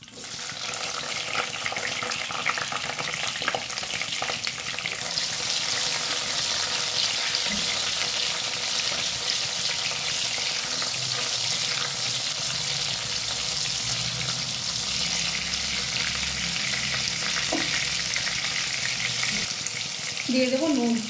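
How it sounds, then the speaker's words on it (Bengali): Tomatoes frying in the pan where paneer was just fried, for a paneer posto, give a steady loud sizzle with occasional stirring scrapes and a brief splash of water near the end. "এর মধ্যে দিয়ে দেবো এখন টমেটো।"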